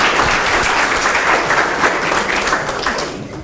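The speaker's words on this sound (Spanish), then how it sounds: "Un aplauso al senador" Audience applause for a senator after a telecommunications reform talk, dense and steady clapping from a crowd in a hall, holding loud for a few seconds before easing slightly.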